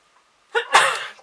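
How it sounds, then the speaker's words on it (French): A woman lets out one loud, forceful sneeze with a short breathy intake just before it, close to the listener and heard on its own. "je ne sais pas éternuer comme une vraie fille. Je fais des gros éternuements."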